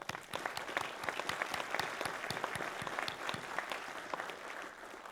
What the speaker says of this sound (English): So please, another round of applause for the Academy.